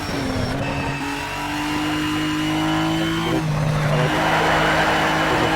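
A race car in Need for Speed Shift 2 accelerates hard out of a corner, its engine rising in pitch through steady revving with a gear change, loud and continuous with no talk.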